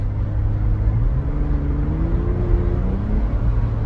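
A Braptor pickup truck engine drones on the highway. The low, steady hum carries road rumble and rises slightly in pitch over a few seconds, with no talk.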